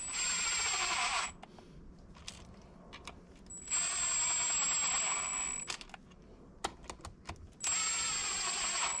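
A power drill on a low torque setting seats 10mm bolts during a transfer case input shaft swap on a 1997 Jeep Wrangler TJ. Three whirring bursts of about two seconds each are separated by quieter clicks and ratcheting.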